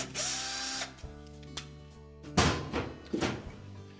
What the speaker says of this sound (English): we'll next remove the single screw that secures the valve to that bracket. That's normally a 1/4 inch hex head screw.